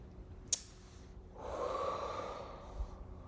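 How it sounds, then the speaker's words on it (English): A single deep inhalation through the nose during a calm guided meditation, slow and soft, rising for about a second after a brief sniff-like click, close and quiet, with no voice. "let's take a deep breath in"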